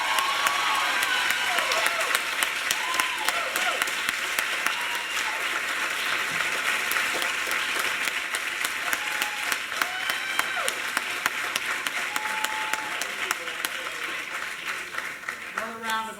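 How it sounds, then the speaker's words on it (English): An audience at a Martin Luther King Jr. and Black History Month celebration applauds a first place winner, sustained dense clapping with scattered cheers, while voices talk and call out beneath the applause throughout. "Another round of applause."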